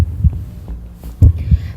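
Heartbeat sound effect with deep, thumping double beats that come closer together as the pulse quickens, loud and close against a low hum, with no voices.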